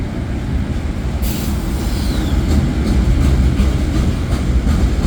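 A CN westbound freight train rolls past in the rain, a steady loud rumble of cars and wheels with a brief brake-like squeal partway through.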